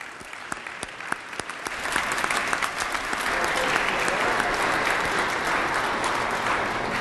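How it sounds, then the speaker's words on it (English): Applause from a crowd in a state assembly legislative chamber, starting with scattered claps and swelling into steady, sustained clapping across the room. "If we could please give them a round of applause,"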